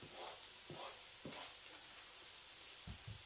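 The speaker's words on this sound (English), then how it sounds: "Then I'm gonna add garlic to it" Garlic and onions frying in a pan with a steady soft sizzle, broken by several short stirring scrapes near the start and again at the end, faint and close.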